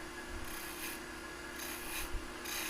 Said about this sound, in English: And just using this little spindle gouge.